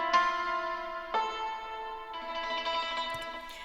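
Native Instruments yangqin melody processed with EQ and reverb for a lo-fi remix of an anime song: a few struck, bright plucked-dulcimer notes ringing out with long echoing tails, clear and alone, with no voices.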